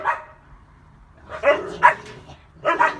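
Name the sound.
dogs barking in the background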